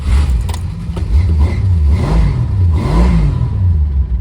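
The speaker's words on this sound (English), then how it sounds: "Squealy belt, of course. Runs okay, but there's a cylinder dropping out at idle." Slant Six engine of a 1965 Dodge Dart convertible running loudly and close, with a rough uneven idle from a cylinder dropping out and a wavering squeal from the belt.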